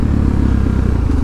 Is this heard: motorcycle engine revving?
yes